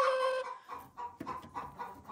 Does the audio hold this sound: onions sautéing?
no